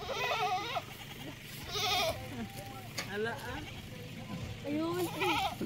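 Male goats giving wavering, repeated bleats close by, several cries spread across the few seconds, with people talking over and between them.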